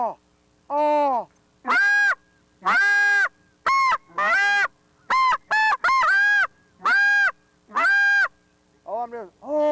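A handheld goose call mimics a lonesome snow goose, giving a series of loud, separate two-note honks at an uneven pace, close and clear, with short pauses between them and a quicker flurry at the end.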